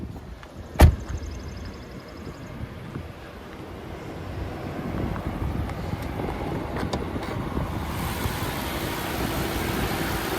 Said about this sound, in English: there we have our twin turbocharged 6-liter V12 engine